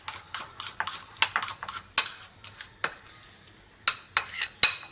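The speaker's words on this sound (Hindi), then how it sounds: "अब इन सब चीज़ों को अच्छी तरीके से मिक्स कर रहे हैं।" White sauce for a zinger burger, with salt and garlic powder, is mixed in a bowl; a spoon knocks and clinks in irregular bursts of sharp taps separated by brief quiet gaps.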